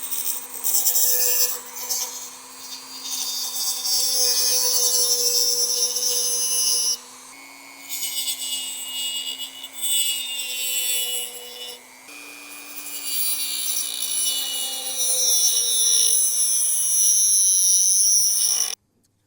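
A small rotary cutting tool whines at a steady high pitch, grinding a slit into a seized part on a 2003-2008 Lexus RX330/350 during AC compressor work. The harsh buzzy cutting runs close and continuous, with brief pauses and a slight change in pitch.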